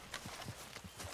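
Horse hooves clip-clop in quick rhythmic beats in the video game Red Dead Online, several close hoofbeats in a brief burst.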